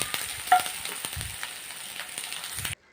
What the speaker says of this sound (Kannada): ಈರುಳ್ಳಿಯನ್ನು ಚೆನ್ನಾಗಿ ಫ್ರೈ ಮಾಡ್ಕೊಳ್ಬೇಕು